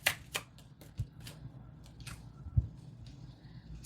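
Tarot cards being shuffled during a late-night card reading, a series of soft, quick riffling snaps and taps spread across a few seconds, close and fairly quiet with no talking.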